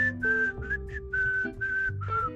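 A person whistles a melody from the film Chungking Express, a clear piercing tune of several sustained notes with short breaks, close and fairly loud over soft background music.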